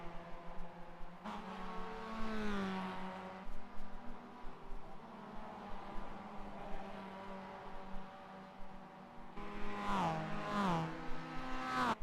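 Mazda MX-5 race cars lapping Lime Rock Park in the iRacing sim, engines droning steadily close by, with rising and falling revs as gears change and a second car's engine sweeping past near the end.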